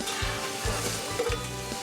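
Continuous crackling sizzle of meat cooking on a hot grill, with soft rhythmic scraping or stirring thuds underneath.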